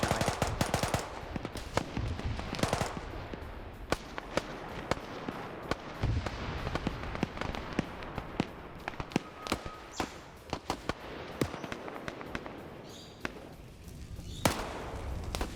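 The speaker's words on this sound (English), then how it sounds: "you can see some of those grenadier weapons going to work on some of these people" Rapid bursts of grenadier weapons and gunfire in an Arma-style military video game battle in a Congo campaign setting, with sharp repeated shots and explosive pops scattered densely throughout, loud and close.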